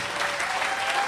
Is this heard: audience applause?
yes